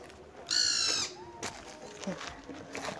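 A bird identified as a woodpecker calls in the evening in a hillside village, a short bright harmonic cry followed by faint fainter calls over quiet outdoor background.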